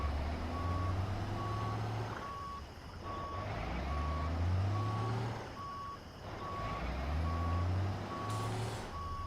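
A truck in American Truck Simulator gives off a regular series of evenly spaced reversing beeps over the low rumble of its engine, clear and steady throughout.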